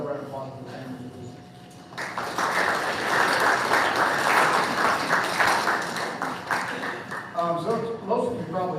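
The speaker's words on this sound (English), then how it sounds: "So another round of applause for the families" An audience at a school football event applauds the families, clapping rising after a voice speaks and staying full and steady for several seconds before talk resumes over the fading claps.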